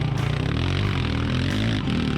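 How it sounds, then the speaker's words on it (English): 700cc two-stroke sidecar motocross engines racing, a loud, continuous raw engine roar with revving and shifting pitch from bikes close by, with no talk. "Enjoy the raw two-stroke sounds."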